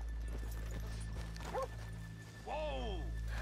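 Horses being left off a town's main street: hooves clip-clop and one horse gives a short whinny, nearby and fairly quiet, with people talking in the background.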